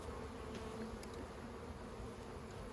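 Honeybees clustered on a hive lid at a newly installed hive drone in a steady, close, continuous buzz that fills the whole moment, with no voices over it.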